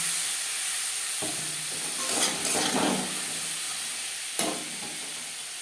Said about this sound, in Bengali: পেঁয়াজ কলি ভেজে নেব